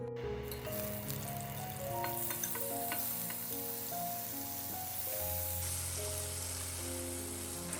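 Squid stir-frying in hot oil gives a crackling sizzle with scattered pops, running under steady background music.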